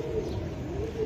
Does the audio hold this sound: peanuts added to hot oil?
no